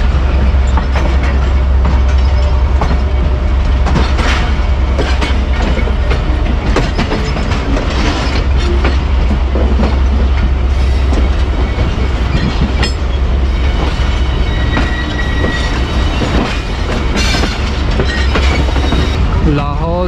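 A Badar Express passenger train pulls out of platform 8 at Lahore Junction, a steady loud rumble with clattering wheels and occasional squeals, heard from on board with faint voices underneath.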